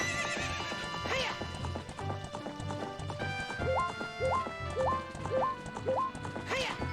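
Horse in Zelda: Ocarina of Time galloping with a rapid clip-clop rhythm and neighing at the start and end, while game music plays underneath at moderate level.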